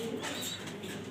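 Top-quality racing grizzle pigeons coo in a pigeon loft, a short, close, soft burst of throaty cooing.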